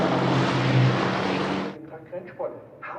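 A race car roars past at the Nürburgring in qualifying, a loud broadband engine rush that cuts off sharply after under two seconds, leaving quieter track ambience with a commentator talking.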